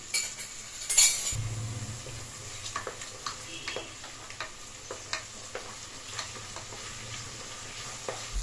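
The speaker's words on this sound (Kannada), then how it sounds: "ಟೊಮೆಟೊ ಸಾಫ್ಟ್ ಆಗಬೇಕು ಅಲ್ಲಿವರೆಗೂ ನೀಟಾಗಿ ಫ್ರೈ ಮಾಡ್ಕೊಳ್ಳಿ" Ginger garlic paste and tomato frying in a pan, stirred with a spoon that clinks and scrapes against the metal in a steady rhythm over a constant close sizzle.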